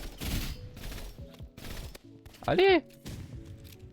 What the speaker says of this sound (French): une rafale bien calée et c'est bon